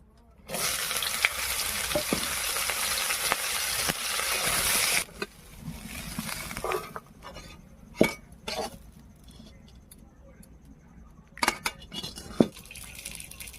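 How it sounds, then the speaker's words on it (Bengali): Ivy gourd (kundri) frying in hot oil, a loud continuous sizzle for the first few seconds, then quieter frying broken by sharp clinks and scrapes of a utensil against the pan. "তেল দিয়ে দিলাম, আর কুঁদরোইগুলোকে ভেজে নেব।"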